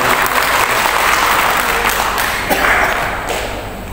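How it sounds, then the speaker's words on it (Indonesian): Loud, dense audience applause at a school principals' workshop talk show, steady clapping from a large crowd filling the whole clip with a few sharper claps standing out. "Tepuk tangan dong Bapak Ibu."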